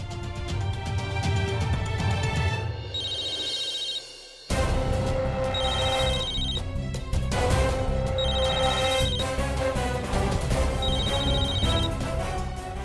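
A phone ringtone plays a repeating melodic pattern with bright chiming tones, continuous and fairly loud, with a brief dip partway through before resuming.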